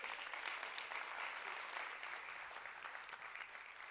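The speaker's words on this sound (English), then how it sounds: "give yourselves a round of applause" Sustained applause fills a keynote hall at a music conference, a dense, even wash of clapping at fairly low level that holds steady throughout with no voices standing out.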